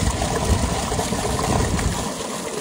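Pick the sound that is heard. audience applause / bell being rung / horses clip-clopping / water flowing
water flowing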